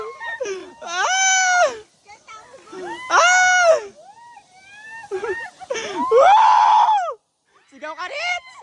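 Several people scream loudly and excitedly from a high place, long shrill cries with short gaps between them, close and overlapping, mixed with brief shouting voices.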